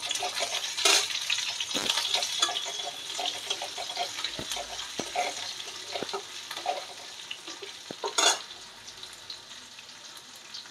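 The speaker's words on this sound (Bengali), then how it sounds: "রসুনটা হালকা ভেজে নেব। কাঁচা লঙ্কা কুচি" Garlic and chopped green chillies fry gently in a pan, a fairly quiet, uneven crackle with scattered sharp ticks and a louder burst of spitting late on.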